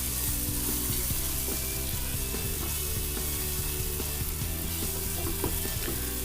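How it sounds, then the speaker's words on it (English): Masala for a sweet and spicy karela (bitter gourd) curry with jaggery sizzles steadily in hot oil. A continuous close crackle carries occasional stirring clicks, with no talking. "here you can see the masala is nicely frying."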